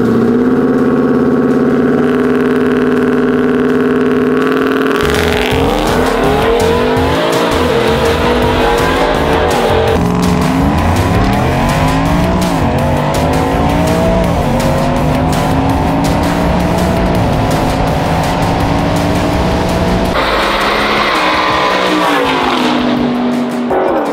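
A C7 Corvette races a truck, with loud engines revving and climbing through gears and tires squealing, a dense, close, continuous roar that swells and shifts over about twenty-four seconds.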